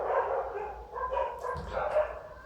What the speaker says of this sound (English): ignore the dog barkings